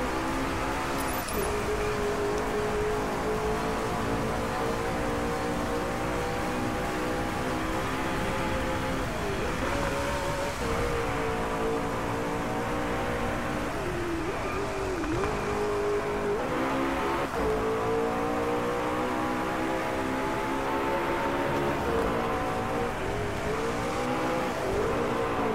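A McLaren 650S engine roars continuously in the Driveclub racing game, its pitch climbing and dropping through repeated gear shifts and revs over a long, loud, unbroken run.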